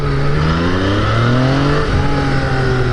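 A Yamaha FZ-09 naked motorcycle accelerates hard on a road test ride. Its loud engine note rises steadily in pitch, briefly dips as it shifts gear around two seconds in, then climbs again over constant wind rush. No one speaks.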